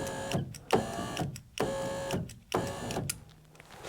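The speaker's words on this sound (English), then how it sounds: "then you have to wind the window up until our bolts line up with that" Window on a VW T5 camper door being hand-wound upward inside the stripped door panel, giving four evenly spaced ratcheting clunks with a faint whir between, close and quiet with no talk.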